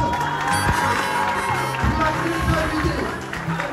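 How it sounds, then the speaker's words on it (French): A school audience at a tribute to women claps and cheers for a performer, with lively crowd noise and shouts mixed through and voices talking over it. "Je veux qu'on applaudisse très fort Fox."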